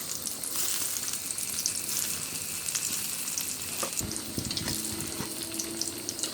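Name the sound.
frying krupuk crackers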